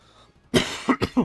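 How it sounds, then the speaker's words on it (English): A close, harsh coughing fit: one long rasping cough followed by three shorter, sharp coughs in quick succession, with no talking. "Can't shake this cough."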